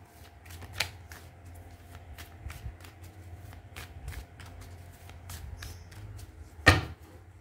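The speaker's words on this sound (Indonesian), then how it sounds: "Kita shuffle lagi." Tarot cards being shuffled by hand: a steady stream of soft riffling and flicking clicks, quiet and close, ending with a sharper slap as the deck is squared.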